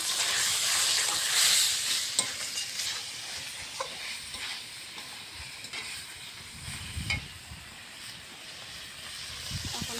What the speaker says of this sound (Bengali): মশলাটা কষানো হয়ে গেছে যখন তেল ছেড়ে দিয়েছে